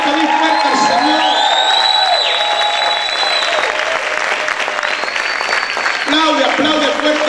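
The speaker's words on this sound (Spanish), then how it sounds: "¿Cuántos pueden gritar y aplaudir fuerte al Señor?" A church congregation shouts and claps loudly for the Lord at a worship service, a dense wash of applause and cheering with whoops, while a voice speaks over the noise throughout.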